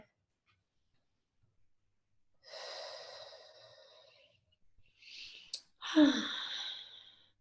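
Slow, deep breaths during a guided chakra meditation, a long soft exhale followed after a pause by a sharper inhale and another breathy release, close and quiet.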